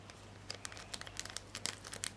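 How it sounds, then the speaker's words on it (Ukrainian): Fine porridge powder poured from a packet onto a toy plate for a Baby Born Warm Baby doll gives a run of soft, close crinkly rustles and dry trickling patter, fairly quiet and unbroken with no talk over it. "Висипаємо весь пакет."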